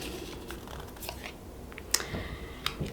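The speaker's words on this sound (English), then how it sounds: "These cards are so hard to shuffle." A deck of tarot cards is shuffled by hand, soft riffling and scraping with a few sharper snaps, quiet and close.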